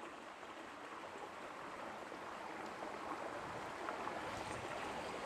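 Creek water flows steadily outdoors at Stewart Creek along a walking trail, a constant, even rush that holds the same level throughout with no voices.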